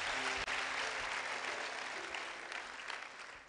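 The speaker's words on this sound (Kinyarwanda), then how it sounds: "Twakomera Yesu amashyi menshi." A church congregation at a pastor's sermon gives a short burst of dense, loud applause that fades slightly toward the end.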